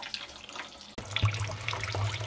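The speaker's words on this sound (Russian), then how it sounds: "пролить чистой водой, чтобы все сахара наши смылись с дробины" Clean water pours into whisky grain mash to rinse the sugars out, a close, soft splashing stream that starts abruptly partway through and keeps trickling and gurgling to the end.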